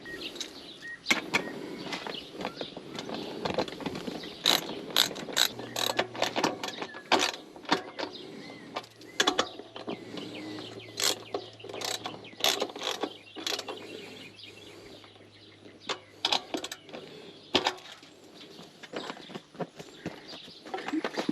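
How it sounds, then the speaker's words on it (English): A ratchet tightens bolts on a Royal Enfield Meteor 350 seat, producing quick clicking bursts and clinks of metal parts, close and fairly quiet, with handling noises scattered across the stretch. "Now we're going to get these bolts and get them in there."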